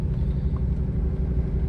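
Deep, steady engine rumble from a C5 Corvette fitted with long-tube headers and an X-pipe, a loud, continuous low burble up close with no talking.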